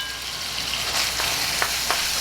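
Ground meat browns in a frying pan for stuffed peppers, giving a steady, close sizzle with a few faint scraping stirs.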